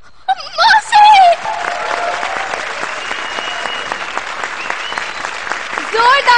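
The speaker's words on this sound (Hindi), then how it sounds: "जोरदार तालियां सलोनी राजीव और स्मिता के लिए।" Studio audience applause after a comedy act on an Indian TV comedy show, a dense, lively burst of clapping with voices speaking at the start and end.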